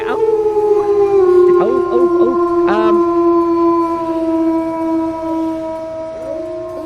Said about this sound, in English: I'm pretty sure there's a wolf howl